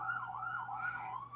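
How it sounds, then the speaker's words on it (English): A wailing emergency-vehicle siren outside rises and falls in smooth sweeps, faint and distant as it passes by a house, steady over low background hum with no talk. "Is that siren coming my way?"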